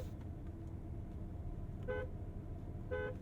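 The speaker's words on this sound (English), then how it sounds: "I did actually need to press harder on the wheel to get the horn to sound" Two short horn toots from a Cadillac CT5 Blackwing, the first near two seconds in and the second about a second later, each sounding over a steady low road and engine rumble inside the moving car.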